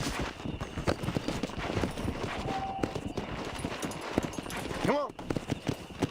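Horse hooves gallop in a steady clip-clop rhythm in the Red Dead Redemption video game, close and continuous, with game dialogue and someone talking over it.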